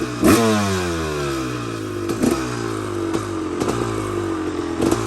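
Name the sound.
Honda CR250R dirt bike engine running and revving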